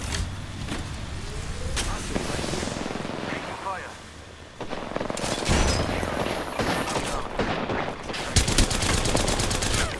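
Rapid bursts of gunfire and loud shots ring out during an Apex Legends match, crowding the mix with dense, repeated firing while someone talks excitedly over it.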